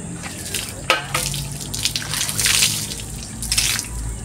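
Water sprayed onto a muddy mountain bike, a hissing, splashing spray in uneven bursts with a sharp spatter near the start, fairly close and without talk.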